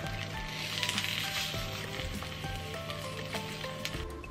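Eggs frying in a skillet, a steady close crackling sizzle with scattered pops running throughout at an even level.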